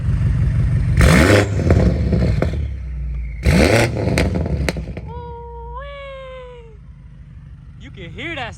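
BMW S63 twin-turbo V8 with catless downpipes blips its throttle in two sharp revs with turbo spool, followed by whistling, whining tones and a final rising rev, heard close up with voices underneath.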